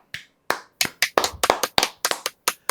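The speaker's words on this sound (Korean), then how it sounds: "이것도 일단 박수 한번 치고 가야 돼요" A single person claps hands about thirteen times, close and crisp, in an uneven burst with short silent gaps between the sharp slaps.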